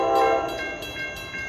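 An NJ Transit locomotive sounds its horn while passing Mount Tabor station without stopping, a loud sustained multi-tone blast near the platform, with several brief fluctuations and breaks over the passing rumble of the train.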